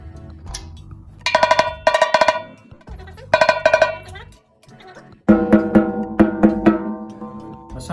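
A snare drum tapped beside each tension rod while it is tuned, producing bright metallic ringing hits in short bursts, then a lower, fuller series of resonant strikes near the end.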